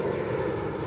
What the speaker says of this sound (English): Another plane coming.